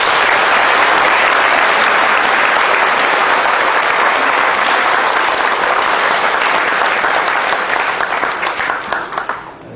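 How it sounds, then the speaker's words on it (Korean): Sustained, loud audience applause fills a Korean Buddhist dharma assembly led by a senior monk, steady throughout and fading slightly at the end, with no voices. "아낌없는 박수를 보내드립니다"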